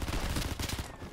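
Sniper rifle gunfire in a video game, heard as a short burst of dense, muffled shots with low thumps that carry through about a second, close and moderately loud, with no talking.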